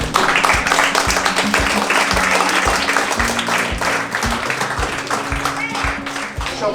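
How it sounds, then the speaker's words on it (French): A crowd at a goalkeeper training camp applauds the people who supported them, with steady, rhythmic clapping and some voices mixed in throughout. "je pense qu'on peut les applaudir"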